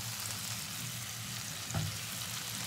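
Spice masala being stir-fried with fried potatoes and goat fat, a steady close sizzle with a low hiss and a single louder stir or scrape near the end, no talking.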